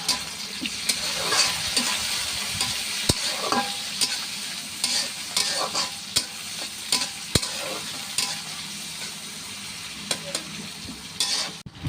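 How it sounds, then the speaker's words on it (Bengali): Dried hilsa fish head and tail fry with reddened onion in a wok, a loud continuous sizzle broken by repeated scraping stirs of a spoon against the pan. "ইলিশ মাছের শুকনা লেজ এবং মাথা দিয়ে দিলাম"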